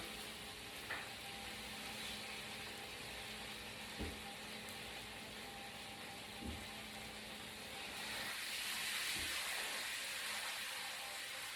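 Birria tacos frying in a pan, giving a steady close sizzle and hiss with a few soft thumps as they are turned, the frying swelling louder toward the end.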